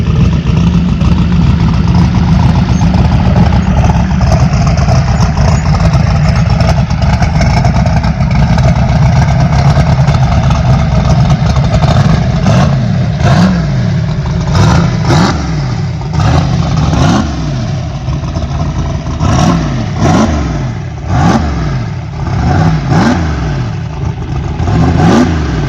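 A turbocharged Saturn car engine, heard from inside while driving, holds a loud steady idle hum and then rises into a series of repeated revs that swell and fall in quick succession, with no talk.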